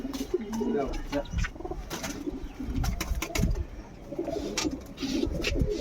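Soft, repeated pigeon cooing close by, low throaty burbles recurring throughout, with a faint voice murmuring in the background.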